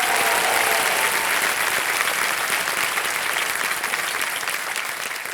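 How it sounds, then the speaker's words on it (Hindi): Studio audience on a televised quiz show bursts into loud, dense applause for a contestant, a sustained roar of clapping that eases off slightly toward the end with no talking. "तालियां बज जाए इनके लिए"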